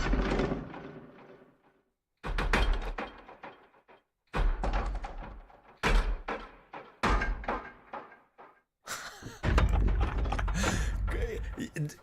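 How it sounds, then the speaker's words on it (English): Mechanical groove patterns from the Heavyocity Damage Machina sample library: rattling cranks, clanks and thunks strike in repeated bursts with short silences between, ending in a denser, louder mechanical section. "mechanical grooves, rattling cranks."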